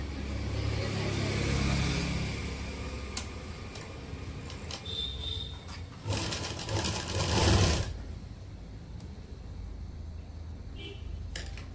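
A sewing machine runs in short bursts while stitching a double-folded fabric strip into a narrow cord, a rapid ticking whir close up with pauses between runs and a louder stretch in the middle.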